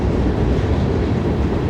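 A Norfolk Southern coal train passes on a trestle with a loud, steady rumbling roar and dense rolling noise, close by and without pause.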